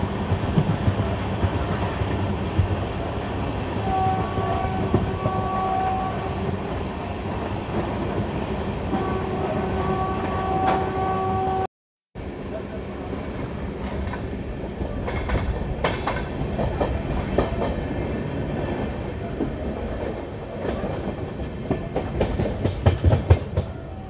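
The Lalkuan–Howrah passenger train rolls slowly through a station, a continuous loud rumble of wheels on rails with rhythmic clickety-clack and squealing metal, a brief dropout midway, then rattling and clanking growing louder toward the end.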